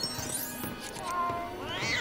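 A cat meows in the LEGO Harry Potter video game, a short game sound effect with rising and falling calls over soft background game audio and music.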